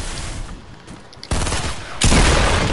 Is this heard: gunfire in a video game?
yes